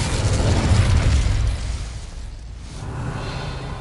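A fiery burst from an Incendio fire spell in the Hogwarts Legacy video game, a loud whooshing roar at the start that thins and fades into a softer crackle over a few seconds.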